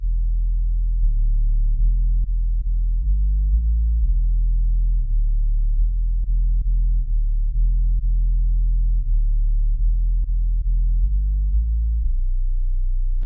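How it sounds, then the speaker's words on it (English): A soloed, unprocessed sub bass synth plays a deep, steady low tone, loud and continuous, shifting pitch slightly between sustained notes with faint clicks at the note changes. "I'm going to solo the sub bass just so you can hear what it's doing on its own"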